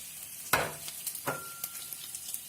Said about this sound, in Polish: Kiełbaskę dobrze przemieszać czasami, żeby się nie spaliła.